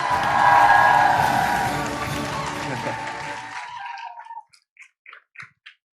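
An audience applauds a guest speaker at an indoor business event. Loud, dense clapping fades over a few seconds until only a few scattered claps remain at the end.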